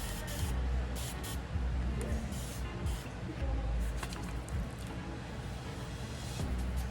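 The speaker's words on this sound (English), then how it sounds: "I have aerosol water bottle, so it helps me with making sure it's super wet." An aerosol water bottle mists hair to soak it thoroughly, giving a steady close hiss with repeated sharper spray bursts over about seven seconds.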